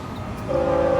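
A train in Texas between Austin and a nearby town, its steady tonal horn sounding loud and close after a low rumbling approach, holding for about half a second.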